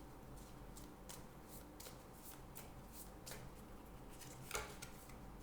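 Tarot cards shuffled by hand in repeated soft riffling bursts, a quiet, steady papery flutter with one sharper snap near the end, close and without talk.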